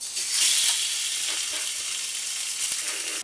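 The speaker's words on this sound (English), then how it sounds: "You want your meat as soon as it touches it in order to sizzle." Pork tenderloin sizzles loudly in a hot cast iron skillet, a constant bright hiss of frying with faint crackles and a few soft clanks.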